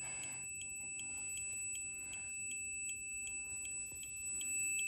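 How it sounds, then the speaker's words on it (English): A multimeter set to continuity beeps faintly as its probes touch while a dryer is being tested: a steady high electronic tone with small repeated ticks, quiet and distant over background noise. "that sound right there, when you place your probes together, that's showing continuity"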